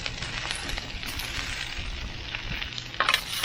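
Egg sizzles and fries in a pan for chicken fried rice being cooked in an RV kitchen, a steady close hiss with faint stirring scrapes and a brief clatter near the end.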